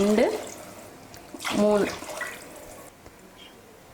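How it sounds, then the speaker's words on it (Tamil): Water poured into a pot holding one and a half measures of rice for tomato rice, splashing in two short pours up close as a woman counts aloud over them. "இப்போ இதில் தண்ணி சேர்த்துடலாம்."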